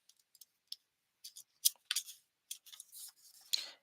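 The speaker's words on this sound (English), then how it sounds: "And then using these scissors" Scissors snip through paper in a papercraft session, a series of faint, crisp clicks and short cutting rasps at an irregular pace, with no talking.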